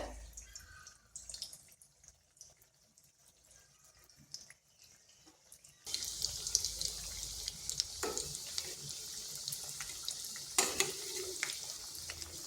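Drumstick flower fritters fry slowly in oil over medium-low heat, starting with faint sizzling and scattered drips, then breaking into a steady, fuller crackle about halfway through, with occasional louder pops.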